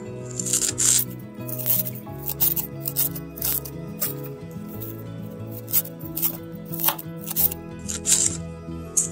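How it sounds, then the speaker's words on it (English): A knife minces flat-leaf parsley leaves on a cutting board, giving rapid, uneven chopping taps and crisp cuts that continue throughout at close range. "And let's mince up this parsley."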